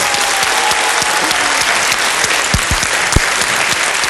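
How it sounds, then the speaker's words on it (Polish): Loud, dense applause from a large studio audience on a television show, a steady roar of many hands clapping continuously with a few low thumps near the end. "oklaski dla Badżita"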